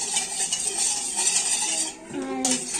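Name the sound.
stirring lemon water mixture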